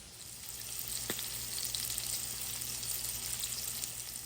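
Sausage sizzles steadily in a hot pan, a constant crackling hiss with a single faint click early on.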